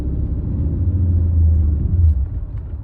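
A Mercedes C55 AMG with a manual gearbox swap accelerates gently, the driver easing the throttle to keep the tires from spinning. A loud, steady low engine rumble builds and then eases off near the end, heard from inside the car.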